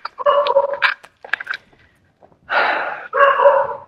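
A nearby dog barks loudly in a few rough, throaty bursts separated by short pauses, followed by two longer, harsher barks.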